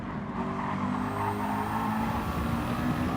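A 650S race car engine is held at full throttle on a long straight during a GT race, a loud, steady, close roar with no letup for the whole stretch.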